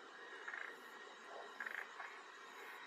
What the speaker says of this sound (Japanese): 田んぼが多いのでカエルの声がどんどん聞こえます。